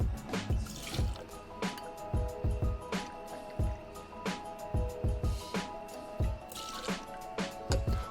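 Gin poured into two cocktail shakers for gin sours, soft close splashing and dripping pours with irregular liquid bursts, fairly quiet and without voices.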